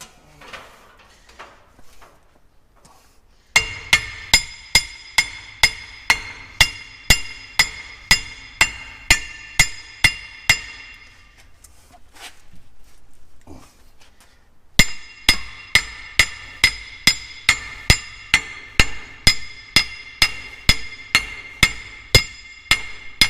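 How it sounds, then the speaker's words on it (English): Rapid metallic hammer strikes on a dump truck hub oil seal ring out in two steady bursts of about a dozen blows each, separated by a short pause with faint handling noise. "Hammer."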